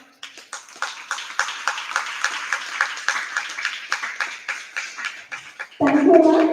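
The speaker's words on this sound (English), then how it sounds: "I request the spectators to show their adoration to ma'am's accomplishments with a reverberating applause." Audience applause at a school debate competition: a steady patter of many hands clapping with close individual claps, fading before a voice begins speaking at the end.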